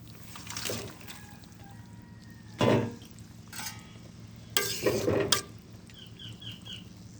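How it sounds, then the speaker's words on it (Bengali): Pieces of tilapia dropped into a pan of simmering spicy curry give a few wet splashes and sloshing bursts, separated by quieter stretches of low bubbling and a steady background hum. "এবার আমি মাছগুলো দেবো"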